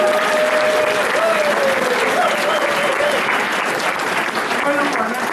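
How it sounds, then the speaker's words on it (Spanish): A seated audience gives steady, dense applause for a professor, the clapping loud and continuous throughout, with voices mixed into the noise. "otro fuerte aplauso para el profesor Aranceta."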